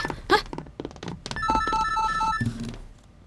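A telephone rings in a home with repeated tonal bursts, fairly close and moderately loud, following a few knocks and clatters.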